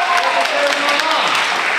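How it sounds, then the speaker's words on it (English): An audience at a poetry slam applauds, a dense wash of clapping with scattered whoops and voices mixed in, filling the room at steady volume. "It's amazing how you can get people to clap"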